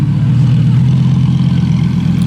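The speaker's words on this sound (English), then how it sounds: "That's obviously not a standard exhaust. That sounds so cool." A classic car with a non-standard aftermarket exhaust rumbles close by with a deep, steady low-pitched engine drone, loud and alone, at a cars-and-coffee meet near Ferrari and Porsche dealerships.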